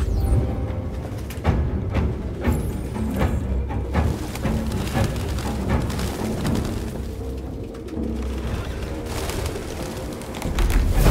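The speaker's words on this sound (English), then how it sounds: "Goddamn fucking pigeons!" Pigeons in Detroit: Become Human coo and flutter around a Jericho hideout, soft repeated bird calls scattered over a dense rumbling background with occasional sharp thumps.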